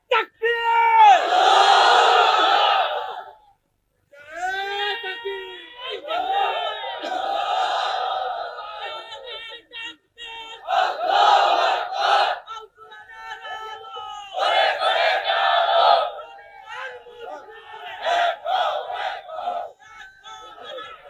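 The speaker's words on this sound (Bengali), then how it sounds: "তাকবীর দাও, তাকবীর, তাকবীর," A crowd at a political rally roars the takbir chant in loud, repeated unison bursts, answering a leader's call, with short pauses between each massed shout.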